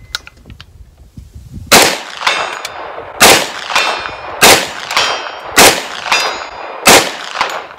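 Rounds of 10mm ammunition fired at steel targets at long range, about five loud sharp shots each followed by a bright metallic ring from the struck steel, spaced roughly a second apart with no talking.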